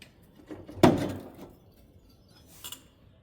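On an old 1977 John Deere 210 tractor, a metal panel door is pried open with a single sharp clanking bang, followed by a short rattle and a faint metallic clink shortly after.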